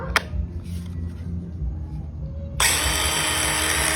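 Battery-powered portable grinder starting up: after a sharp click and a quiet stretch of background noise, the motor abruptly spins into a loud, steady high whir that continues close by.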